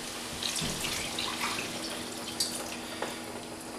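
Water runs steadily into a pot, close by, as a continuous splashing stream with a few brighter splashes and no talking.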